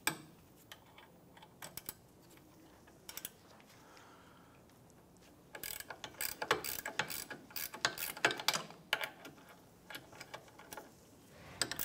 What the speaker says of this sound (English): Using a 15 millimeter ratchet or gear wrench, you go ahead and loosen and remove the two caliper bracket bolts.